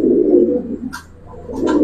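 Two large pigeons, giribaz or coloring breed, give close, low throaty coos with a few brief flutters or higher scuffing sounds between them.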